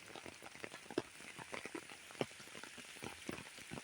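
Rain falls on a green village garden, a soft, steady patter with scattered sharper drops close by, fairly faint and with no talk.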